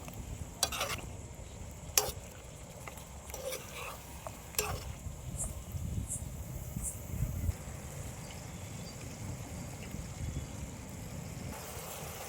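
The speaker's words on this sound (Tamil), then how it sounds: "இப்படியே வதக்குங்க ஏன்னா இது கிரிராஜாங்கிறதுனால நம்மளுக்கு வேக்காடு அதிகமாக தேவைப்படும்" Giriraja chicken for a chilli dry fry is sautéed in a pan with a quiet, steady sizzle, broken by occasional soft scrapes and knocks of a spoon against the metal.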